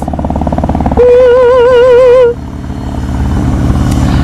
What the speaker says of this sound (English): So I've got a custom M Performance exhaust.